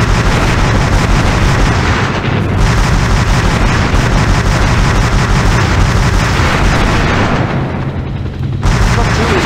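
Helicopter battle in the game Hell Copter: relentless loud gunfire and booming explosions pound without pause, dense and close, with a voice heard speaking faintly beneath the din.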